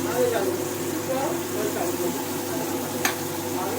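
Onions sautéing in a pan, a constant close sizzle with faint stirring scrapes and a single sharp clink near the end.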